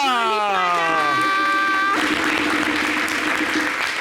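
A studio audience at a local television show breaks into applause after a drawn-out voice, the clapping swelling in and continuing steadily to the end.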